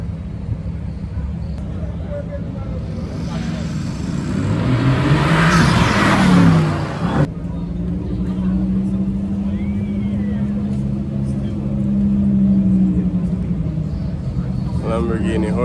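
At a Father's Day car meet, a fast car such as an AMG GT or Lamborghini Huracan revs and roars past close by, swelling to a loud peak before cutting off. Steady engine rumble and people talking follow.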